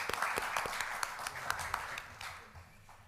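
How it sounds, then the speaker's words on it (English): Applause from a council meeting audience for a councillor just elected Deputy Mayor, a fairly sparse patter of clapping from a modest group, steady then thinning toward the end. "Round of applause, Councillor Ramcharan."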